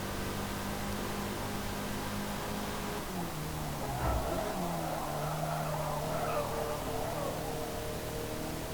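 A light Mazda MX-5 with under 130 horsepower races in Forza Motorsport, its engine droning steadily before tires squeal and skid through a corner as the revs dip and climb again.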